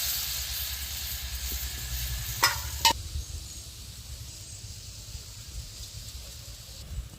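Water poured into a pan of fried bitter melon with mustard and poppy seed paste, a loud hissing sizzle with a couple of sharp utensil clinks that then settles into a quieter bubbling simmer.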